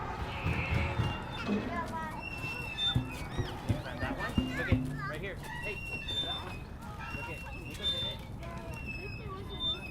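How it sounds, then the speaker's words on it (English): Children play at a playground under a large shade structure in Phoenix. Their scattered voices and shrieks mix with intermittent knocks and thumps, heard faintly from a moderate distance. "The third sound sample is a recording of kids playing at a playground that was shaded using a huge shade structure."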